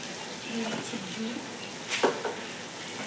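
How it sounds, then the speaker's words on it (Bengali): Ghee sizzling in a pan while banana flower curry is stirred, a soft steady hiss with a faint voice, then a couple of brief clattering scrapes of the spoon near the end. "এখন আমি এতে একটু দিয়ে দেবো ঘি অল্প একটু"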